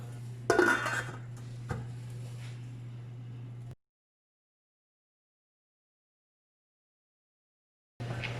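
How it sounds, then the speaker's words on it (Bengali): Metal lid lifted off a pot of ilish pulao cooking over medium heat, a loud clatter and scrape near the start followed by a second knock, over a steady low hum, then silence. "আমি এখন ঢাকনিটা খুললাম।"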